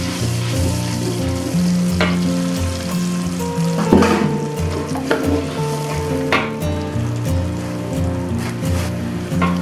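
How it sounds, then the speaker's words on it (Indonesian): Ground spice paste poured into hot frying oil for cooking tongkol fish, a loud, dense, close sizzle with scattered clinks and stirring scrapes over a steady frying crackle throughout, no talking. "kalau sudah panas, kita tuangkan bumbu yang sudah dihaluskan tadi."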